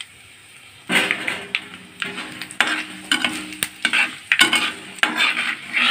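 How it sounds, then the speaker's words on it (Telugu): Dried red chillies fry in oil for a tamarind chutney, with a crackling sizzle and intermittent scraping stirs in uneven bursts after a quiet start. "ఎండుమిర్చి వేగుతుంది కదండి"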